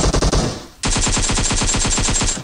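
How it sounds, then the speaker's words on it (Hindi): Rapid automatic gunfire in PUBG Mobile played on an iPad Mini 5, a loud, close burst of evenly spaced shots, a brief pause, then a longer sustained stream of rounds. "इतने में इसके जो बंदा था उसने मेरे पे फायर किया"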